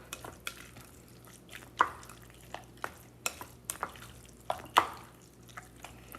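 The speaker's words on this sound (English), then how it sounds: "So I'm going to go ahead, stir that baby up." A spoon stirs cauliflower mash in a pot, giving a string of soft wet scrapes and clinks at an irregular pace, close and fairly quiet with no talking.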